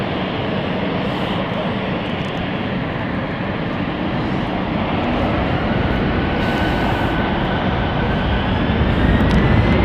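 A jet airliner on a Geneva flight takes off from London City Airport, its engine roar a dense low rumble that grows louder toward the end, with faint voices nearby.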